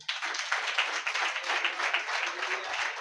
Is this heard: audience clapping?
yes